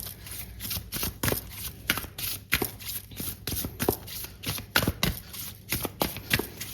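Tarot cards shuffled by hand in a steady run of crisp riffling bursts, close and fairly quiet, repeating about every half second with no talking.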